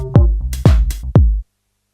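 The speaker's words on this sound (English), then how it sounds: "that bass there is Bass Close Up 1" Three punchy, low synthesized bass notes from the iMaschine 2 sample Bass Close Up 1, evenly spaced and loud, playing alone before stopping abruptly.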